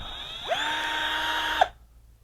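A Total 12V cordless drill spins up with a whirring whine that holds steady for about a second, then cuts off and winds down into near silence.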